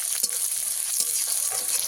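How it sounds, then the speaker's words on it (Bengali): Chopped tomatoes fry in a hot pan, giving a bright, close sizzle with a few quick scraping stirs, short and steady with nobody talking. "টমেটো দিয়ে আবার একটু ভেজে নেব"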